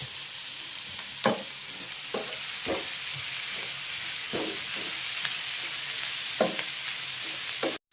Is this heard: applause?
no